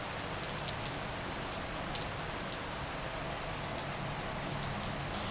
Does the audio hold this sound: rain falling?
yes